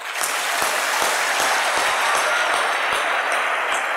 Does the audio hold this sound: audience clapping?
yes